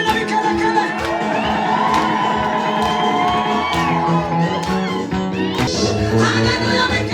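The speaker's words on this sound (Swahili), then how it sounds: "Pigia Yesu shangwe na vigelegele" A church congregation cheers and ululates in praise: dense, continuous high trilling cries and whoops from many voices over lively shouting, loud and unbroken throughout.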